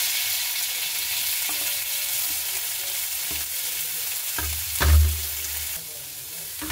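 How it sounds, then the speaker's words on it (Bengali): Cumin seeds and onions frying in mustard oil in a wok, a steady close hiss and sizzle with brief stirring scrapes and a louder burst of crackle midway. "এরপর দিয়ে দিচ্ছি আমি পেঁয়াজগুলোকে হালকা করে ভেজে নেব।"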